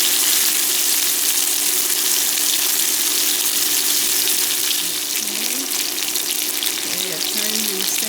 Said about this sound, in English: I'm gonna move the garlic to the side, garlic and ginger to the side.